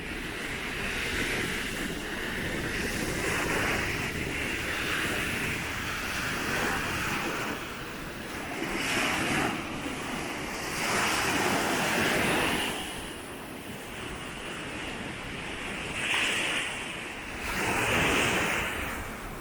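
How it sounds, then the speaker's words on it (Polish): Rough Baltic Sea surf at Kołobrzeg, Poland, in winter crashes and rolls continuously, swelling in repeated surges, with wind buffeting the microphone throughout. "Patrzcie jeszcze tutaj na morze. Dzisiaj takie trochę zburzone."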